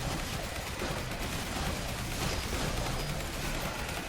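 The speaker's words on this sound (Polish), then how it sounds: "Ta eksplozja może być korzystna na ten moment." Explosions and gunfire in the zombie survival video game Yet Another Zombie Survivors, a dense continuous barrage of blasts and rapid shots, loud and steady throughout with no voice.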